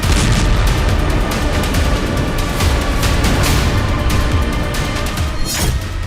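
Russian artillery fire and explosions on a Ukrainian front, a dense, loud barrage of booms and bursts rolling continuously with sharp cracks standing out, heard without talk.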